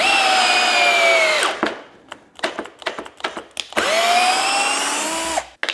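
A Milwaukee cordless drill whines loudly through two sustained runs, each ending as the motor spins down, with brief clicks and handling knocks in the gap between.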